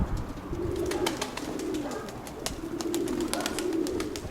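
Pigeon cooing from a loft of racing pigeons, soft repeated low coos in a steady rhythm with occasional wing flutters and clicks, fairly close, with no talk over it.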